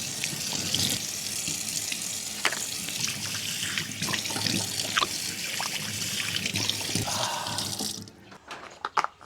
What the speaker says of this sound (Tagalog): pag gising mo, maghihilamos ka, di ba? Diyan lang ako maghihilamos.